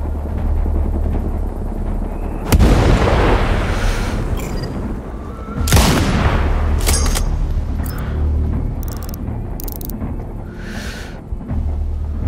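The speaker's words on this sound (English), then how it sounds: "Reporting constant mortar fire." Mortar rounds explode in the shooter game Sniper Ghost Warrior Contracts 2, with two loud booming blasts that roll into long rumbles over steady background din, followed by fainter scattered effects.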